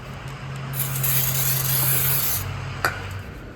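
Brake cleaner sprayed onto a front brake rotor of a 2013 Kia Sorento 3.5L AWD, one close, loud, steady hiss lasting nearly two seconds, followed by a short tap.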